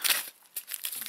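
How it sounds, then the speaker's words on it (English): A plastic MRE ration bag being pulled open, crisp crinkling and tearing bursts in several quick close-up clusters over about a second, with no talk. "There's a fine art to opening plastic bag."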